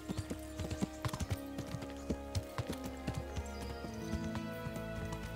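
Repeated hoofbeats of a ridden horse in the medieval game Kingdom Come: Deliverance, a steady clip-clop rhythm of close, distinct hoof strikes over a low ambient game background, with no talking.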